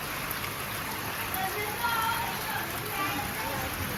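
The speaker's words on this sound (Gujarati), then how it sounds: "જો ગાઈસ વરસાદ તમને હું બતાવું." Steady rain falling outdoors during the monsoon, a dense, even hiss of drops that holds at a constant level throughout, with no voices in the clip.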